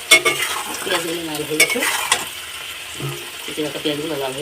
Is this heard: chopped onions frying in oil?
yes